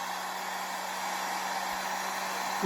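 A heat gun blows a steady, even rush of hot air, warming high-paraffin wax on a leather side-draw sheath; the hiss holds constant throughout, with a faint low hum beneath it.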